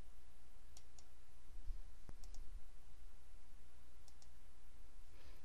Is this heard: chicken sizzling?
no